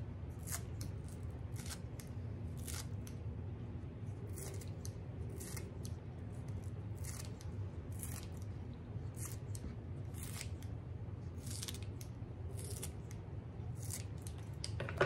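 Kitchen scissors snipping ham into pieces over a cheese layer for a ham, potato and cheddar bake: a continuous run of crisp, rapid close cuts with no talking.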